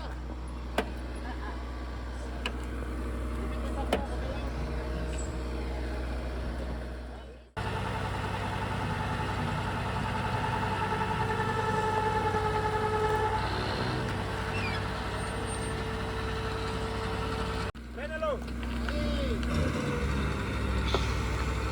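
A tow truck's engine runs and idles in Panama while a broken-down car is winched onto it at a steep angle, a steady low drone with brief clanks and cuts, and people talk nearby.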